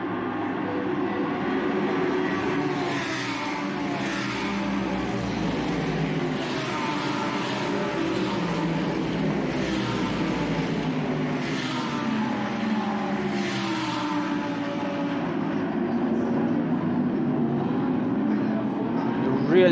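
Loud, continuous engine roar from Blancpain GT Series race cars passing in waves after lap 1, rising and falling as they sweep by, with a voice faintly underneath.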